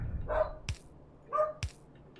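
A female dog barks twice indoors at night, two short, sharp yips about a second apart, fairly faint and set back from the microphone, with no talking over them.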